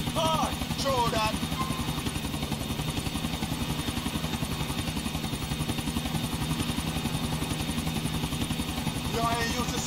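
A helicopter flying in the video game Grand Theft Auto IV, a steady loud rotor thump and engine drone throughout, with voices talking briefly over it.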